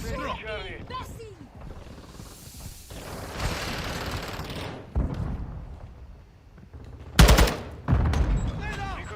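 Gunfire from Call of Duty Modern Warfare II multiplayer with the TAQ-56 rifle: scattered shots and bursts in a busy firefight, with a loud close crack near the end, under radio callouts and voices.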